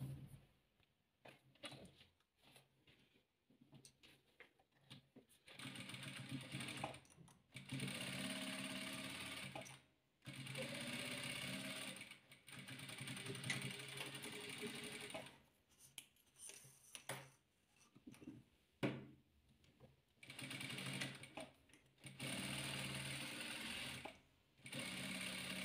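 A sewing machine stitches quilt fabric in long bursts of rapid, even whirring, pausing briefly between runs, close and clear with no talking.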